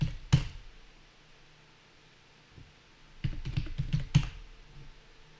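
Password typed on a computer keyboard during a Raspberry Pi setup: one tap, a lull, then a quick run of soft close keystrokes in a quiet room.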